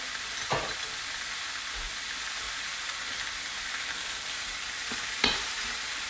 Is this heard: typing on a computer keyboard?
no